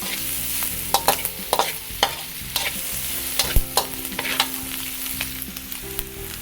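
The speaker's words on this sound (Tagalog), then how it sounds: "pwede na nating ilagay itong ating karning baka. Tapos, hahaluin lang po natin siya." Beef is stirred into browned onions in a hot frying pan for green beans with beef, a sizzling hiss broken by repeated close scraping strokes of a spatula in an uneven rhythm.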